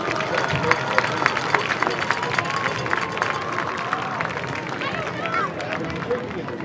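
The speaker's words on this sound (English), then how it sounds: "Have a round of applause for our senior cheerleaders." Crowd applause and cheering at a high school football game honoring senior cheerleaders, a dense continuous wash of clapping and crowd noise with scattered shouts, steady throughout.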